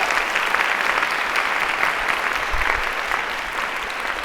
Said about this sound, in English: Can we give a round of applause to the Italian Community Center for hosting us today?